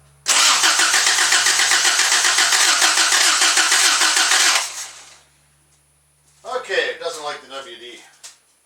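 Toyota engine cranking after a squirt of WD-40: a loud, steady starter churn for about four seconds that cuts off, then a short pause before someone speaks.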